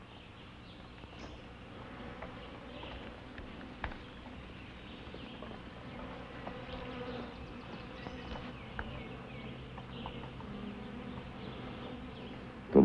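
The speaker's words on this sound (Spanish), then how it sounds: "Todavía hay abejas en los panales." Bees hum and buzz around honeycombs in a continuous, moderately loud drone. A few sharper clicks and knocks break through it, with no talk.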